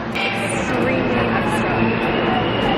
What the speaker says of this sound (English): Guys, we're officially on the subway.